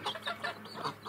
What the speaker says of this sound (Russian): Квохчет?